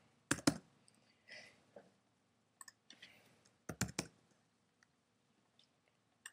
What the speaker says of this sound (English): I'm gonna go back and type any website.